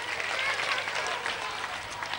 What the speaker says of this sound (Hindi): चलो, सबके लिए तालियां एक बार।